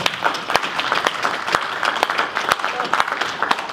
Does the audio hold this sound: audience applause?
yes